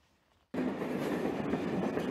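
After a brief quiet moment, a train suddenly roars past close by at Romilly-sur-Seine, Aube, France, a loud continuous rumble and rattle of rolling wheels.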